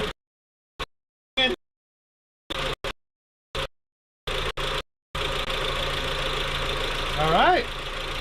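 A Toyota Supra MK4 engine settles into a steady idle after several short bursts of sound separated by silence, running continuously and fairly close for the last few seconds.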